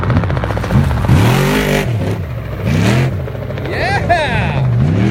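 An off-road race vehicle at Parker 425 qualifying roars as its engine revs repeatedly on the gas, rising and falling in loud surging waves near the listener, with people talking over it.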